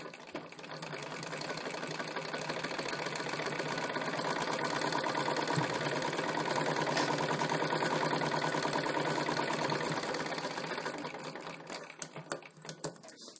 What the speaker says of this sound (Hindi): इस तरह से इसमें फिर डबल सिलाई करेंगे।